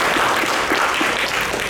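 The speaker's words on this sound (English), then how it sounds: "So I want a round of applause for all the members." Steady audience applause at a service talks kickoff event, a dense wash of many hands clapping evenly throughout, loud and continuous without voices.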